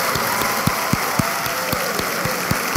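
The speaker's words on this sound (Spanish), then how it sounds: "el abrazo y este aplauso bien grande para ella" A television studio audience applauds a woman on the show, with continuous clapping and a few sharper claps standing out, while a faint low thumping runs beneath.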